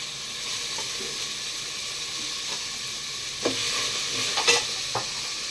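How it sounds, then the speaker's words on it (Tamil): Masala with tomato, cooked dal and drumstick sautés in a pan under a constant, soft sizzle. A spoon stirs and scrapes now and then, with a few louder knocks near the end. "தக்காளி பருப்போட போட்டு வேக வச்சுருக்கோம்ல அதெல்லாம் போட்டு மசாலா போட்டு வதக்கிட்டு"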